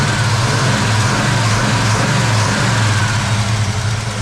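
A 1964 Chevrolet Malibu Chevelle engine idles with a steady, loud, close rumble; the small tick from the rear of the engine is not clearly separable within the continuous drone, and no one speaks.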